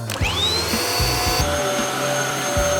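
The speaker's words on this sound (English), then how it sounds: "Where's the vacuum?" A vacuum cleaner runs close by during the fitting of a HyVibe System 2 into a Fender CB-60SCE acoustic bass. It spins up with a rising whine, then holds a loud steady roar with shifting tonal hums and short low bumps.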